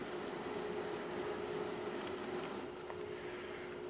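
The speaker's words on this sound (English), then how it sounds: "You can hear the loco moving forward." An Aristo-Craft model train locomotive moving forward under wireless remote control, giving off a faint steady electric hum and a light rolling rumble with no voices.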